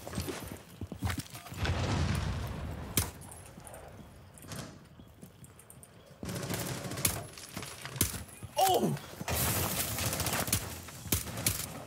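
Gunshots in a video game shooter: several bursts of rapid gunfire separated by quieter gaps, fairly loud and close, with no talk over them.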